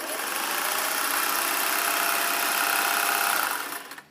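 A Singer 503A Slant-O-Matic Rocketeer sewing machine runs steadily under foot-pedal control, a loud continuous motor whir with a fine rapid needle rattle that holds for several seconds before quickly winding down.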